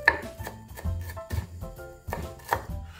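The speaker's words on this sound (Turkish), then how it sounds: "Ve dereotumuzu küçük küçük doğrayalım." Rapid knife chopping of dill on a cutting board, a quick series of sharp taps with uneven rhythm, close and clear.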